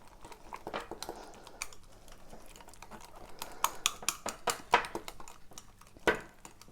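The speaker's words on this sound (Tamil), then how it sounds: "ஸோ இதையும் வந்து நல்லா மிக்ஸ் பண்ணிக்கோங்க." A spoon mixes keto bread batter made with almond flour, giving faint, irregular clinks and taps against the bowl. The sounds come close up in a quiet room.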